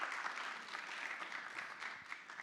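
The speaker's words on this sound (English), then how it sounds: "So give yourself a round of applause." An audience at a small business program's award event gives steady, sustained applause. The applause is moderately distant and continues evenly throughout, with no clear voices.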